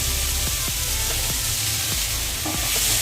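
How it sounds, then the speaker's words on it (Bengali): Fried egg and soybean pieces tossed into chopped onion and potato frying in oil, a loud, dense, continuous sizzle with scattered stirring taps, close up. "পেঁয়াজ ও আলুটা একটু ভাজা হয়ে আসলে আমি এর মধ্যে ডিম সোয়াবিনের ভাজাটা দিয়ে দেবো"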